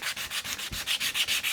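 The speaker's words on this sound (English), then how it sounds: "I'm going to crack on with me sanding." Sandpaper rubs back and forth along the edge of a spalted-wood PRS-style hollow body guitar, about a dozen steady, even strokes in a close, continuous rhythm with no talk.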